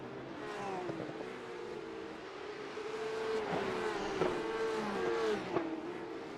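A Porsche 911 Cup (992.2) race car in a racing video game on the Adelaide street circuit, its engine droning and rising and falling in pitch through shifts and braking, steady and prominent without talk.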